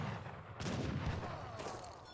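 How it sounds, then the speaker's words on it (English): Light cannons firing in a 2v2 real-time strategy battle: a quiet, muffled burst of overlapping gunfire-like booms heard at a distance, rumbling steadily for a couple of seconds with a few louder peaks. "There come the light cannons."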